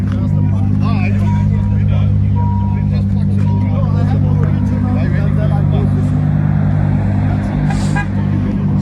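A Lamborghini Superleggera Performante driven hard on a rally, its loud engine drone steady and close throughout, with people talking over it.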